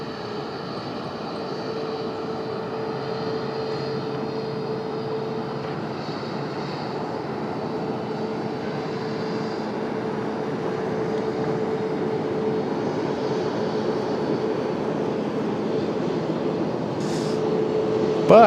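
A SkyWest CRJ 200LR jet at an airport produces a steady distant engine drone and whine, fairly faint and continuous throughout.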